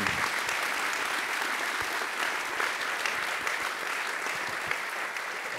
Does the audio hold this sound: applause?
yes